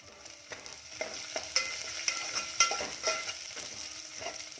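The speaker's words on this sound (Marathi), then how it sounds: "लसूण देखील थोडा परतून घ्यायचा आहे" Garlic sautéing with browned onions for a Malvani curry, a close, steady sizzle with frequent spatula scrapes and taps against the pan, with no talking.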